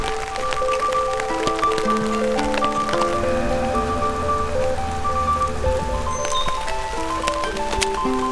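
Steady rain patters on a taut tarp overhead, a dense, continuous drumming of drops with occasional louder plinks, close and unbroken throughout.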